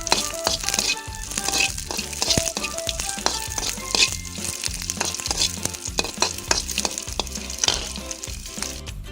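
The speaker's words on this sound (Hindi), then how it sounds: "इसे थोड़ा सा ऑयल डाल के रोस्ट कर लीजिए।" Green chillies split down the middle and garlic cloves roast in a little oil, sizzling steadily while a utensil scrapes and stirs in repeated close, clattering strokes.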